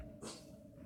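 A frightened dog gives a brief, quiet whimper with a faint growl, one short sound over a low background hum.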